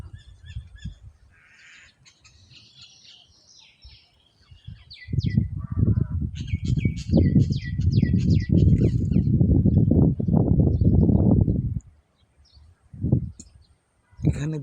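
Two shalik mynas call outdoors, giving repeated chattering and squawking notes at moderate distance, while people talk close by for several seconds underneath the birdsong.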